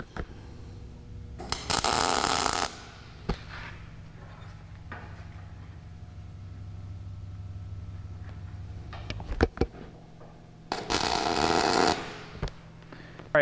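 Tack welding steel bars for a medieval-style blacksmith candle holder cage produces two short bursts of harsh, crackling arc buzz about nine seconds apart, with quiet shop rumble and a few small knocks in between.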